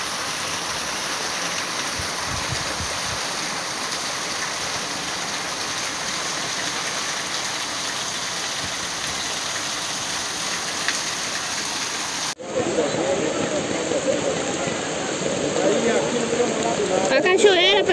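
Heavy rain pours steadily in Marizal, Rio Grande do Norte, in Brazil's northeast, a dense continuous hiss of downpour that turns louder and closer near the end.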